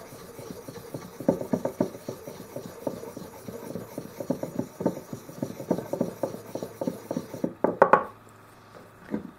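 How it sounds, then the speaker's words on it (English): A toa nagura stone is rubbed against a handheld Kiita honing stone to raise slurry, giving close, rhythmic scraping strokes that pause briefly before a final burst. "I have here a nagra to go along with this stone, a toa nagra, and I'm going to raise a slurry"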